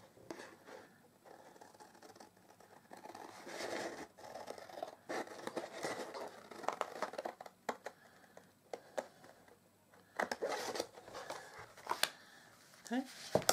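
Scissors cut through paper for a hexagon candle box, giving close, quiet snips and rustling scrapes in uneven bursts, with a voice talking over the cutting.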